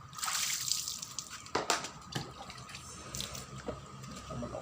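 Running water splashes and drips as a cooled-down grass trimmer is washed after use, a steady nearby spray with brief louder gushes.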